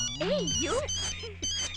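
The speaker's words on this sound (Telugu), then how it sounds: "రాంగ్ టైం లో రింగ్ అవుతుంది" A melodic phone ringtone plays nearby, its tune rising and falling in quick swoops for under two seconds.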